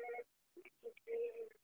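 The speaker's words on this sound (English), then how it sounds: "I want to call his phone." A telephone being dialed gives a short run of separate DTMF keypad tones, a few quick beeps with brief gaps between them, played faint and close.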